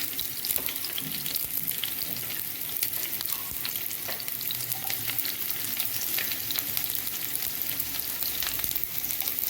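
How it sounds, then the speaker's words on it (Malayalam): Garlic, shallots and curry leaves fry in hot coconut oil for a hyacinth bean stir-fry, giving a dense, constant crackling sizzle with sharp pops scattered throughout, heard up close and alone. "വെളിച്ചെണ്ണ ഏകദേശം ചൂടായിട്ടുണ്ട് അതിലേക്ക് ഞാൻ വെളുത്തുള്ളിയും ചുവന്നുള്ളിയും വേപ്പിലയാണ്"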